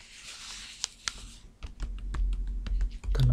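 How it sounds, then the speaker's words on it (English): Fingertips tapping on a paper flour bag, a run of soft dry taps that quicken into a steady patter, close to the microphone over a low background rumble. "Tapping on the paper here."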